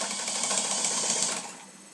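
Sewing machine stitching a quarter-inch French seam in fabric, a steady fast whirring run of the needle for about a second and a half that then eases off, close and alone with no talk.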